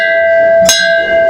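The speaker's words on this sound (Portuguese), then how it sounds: "Aqui nós batemos o sino" A bell is struck once in a religious ritual honoring Zé Pilintra, giving a bright, loud ring that holds a long sustained tone, heard close.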